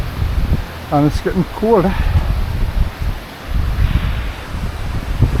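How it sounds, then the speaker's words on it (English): Wind gusts roar and buffet across a high Lake District fell on a winter walk, a loud broadband rush rising and falling throughout, with a person briefly speaking over it. "High up again, the wind's starting to pick up"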